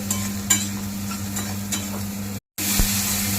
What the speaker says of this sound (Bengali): এবার পেঁয়াজটা কষা হচ্ছে, পেঁয়াজটা ভাজা হচ্ছে